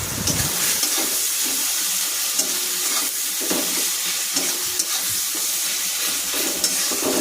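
Ginger, garlic and tomato fry in a pan for chicken curry, giving a steady loud sizzle and hiss with occasional stirring scrapes throughout.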